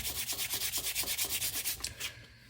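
Fine 400-grit sandpaper rubs back and forth along a leather edge in quick, even strokes, about sixteen rhythmic scrapes, close up, slowing and fading at the end.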